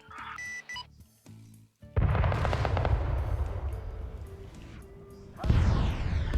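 Rapid bursts of automatic gunfire from a weapon fired into the air in a military combat video game, loud and dense, with brief gaps and a renewed burst near the end.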